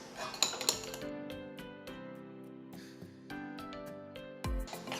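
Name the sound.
mixing cotton candy ice cream base in bowls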